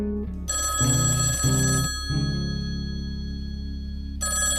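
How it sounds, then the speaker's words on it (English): A telephone rings loudly and close, a bright electronic ring in repeated bursts with short pauses, with no talking over it. "Hey, Sam, can you get that? It's the listener feedback phone."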